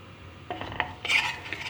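A utensil scrapes and stirs against a pot as white flour and corn flour roast in hot oil, giving close, irregular rasping and clinking strokes with no talk.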